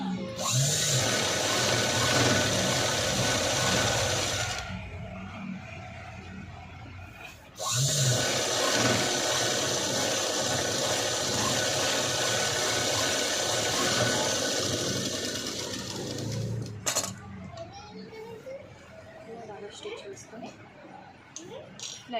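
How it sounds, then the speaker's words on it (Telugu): A sewing machine runs in long sustained bursts as it double-stitches a blouse with a new zip design, whirring steadily for several seconds, pausing, then starting again, with brief quieter handling between runs. "డబల్ స్టిచ్ అనేది నీట్గా వేసుకుంటాం"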